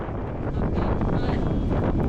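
Strong gusting wind buffets a microphone while cycling toward the Lake District in England, a dense, continuous low roar that swells slightly and stays loud throughout, with no clear voice over it.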